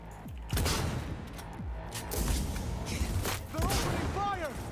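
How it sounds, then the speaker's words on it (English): Gunfire in the Cyberpunk video game: a dense burst of loud shots and booming impacts runs throughout, layered with voices and game effects. "They're opening fire!"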